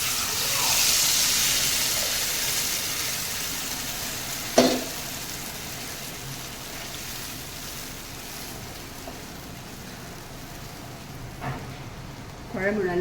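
Tamarind, onion and tomato mixture with chili and turmeric powder bubbles and sizzles steadily in a pot of sardine fish gravy, a continuous close frying hiss with a few brief clinks of a utensil.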